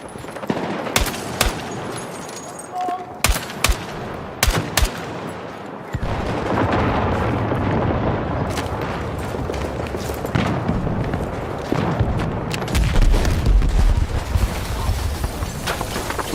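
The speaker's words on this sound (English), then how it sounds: "Look how much happens with just one explosion." Battlefield 6 combat: a run of sharp gunshots and bursts gives way to a heavy explosion with a long rumbling roar, while scattered rapid gunfire keeps cracking over the din, loud and close.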